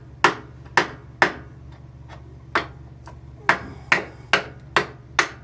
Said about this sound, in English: let's see how this skinny little gasket scraper does.